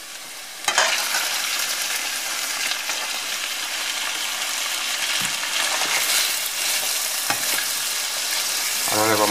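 Chicken pieces frying with onion in a pan for a homemade chicken risotto, a loud continuous sizzle with occasional stirring knocks and scrapes, close and steady throughout.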